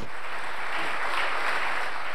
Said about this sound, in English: everyone joined in the applause